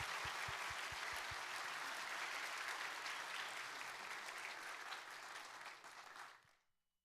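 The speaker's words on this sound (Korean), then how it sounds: "받으실 때 큰 박수로 축복해 주시기 바랍니다" A church congregation at a Korean Methodist Sunday service gives a long, full round of applause during a plaque presentation, steady and dense for about six seconds before fading out quickly.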